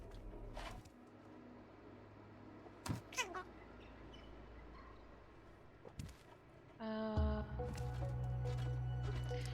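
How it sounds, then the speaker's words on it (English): Cat meows from the video game Stray, a few short calls scattered through quiet ambient game sound with soft footsteps, followed by a steady tonal musical swell near the end. "Meow. Meow. Meow."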